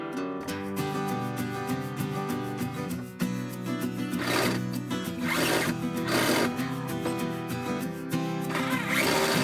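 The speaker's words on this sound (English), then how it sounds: "Then I can screw this on the rafter." A screw is driven through a board into a chicken coop rafter with a power drill, heard in short bursts of whirring with a pause and a clunk between them, close and fairly loud.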